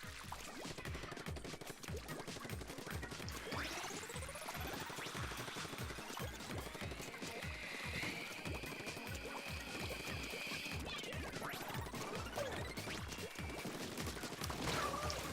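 A missile barrage in Splatoon 2 pounds out as a dense, continuous stream of rapid impacts and crackling blasts, with rising whistling streaks and a sustained high tone partway through, all fairly quiet and steady.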